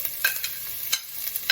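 Onions and garlic fry in a pan while being stirred, with a steady low sizzle and several short bright scraping or stirring bursts, close and alone.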